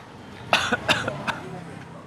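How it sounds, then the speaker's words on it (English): A few sharp coughs in quick succession from inhaling strong ginger, close by, with a throat-clearing quality, then quiet. "it's so gingery that you start to cough when you inhale it"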